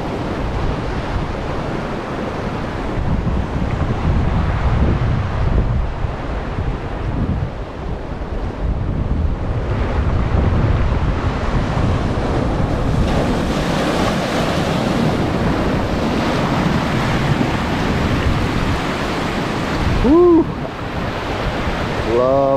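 Ocean waves wash over hardened lava rock formations on an Oahu shore at sunset, a loud, close, continuous surge and hiss with gusty wind buffeting the microphone and a brief chirp-like sound near the end.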